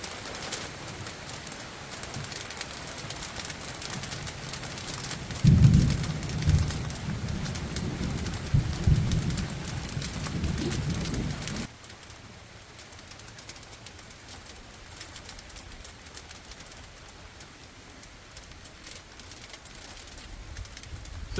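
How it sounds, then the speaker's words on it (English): Steady rain patters throughout, heavier and louder in the first half before easing to a quieter, even hiss; a few low rumbles sit under it. "And now it begins to rain."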